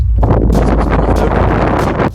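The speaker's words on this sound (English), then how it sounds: "the wind had become so mental that it became hard to hear my own voice" Strong wind buffets the microphone outdoors at an abandoned military base, a loud continuous roaring rumble with gusty swells that persists throughout and eases slightly at the end.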